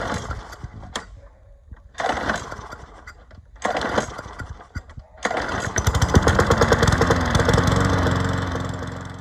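An old Bolens push lawn mower engine, recently repaired after a crack, is pulled over several times in short bursts, then catches and runs steadily and loudly up close.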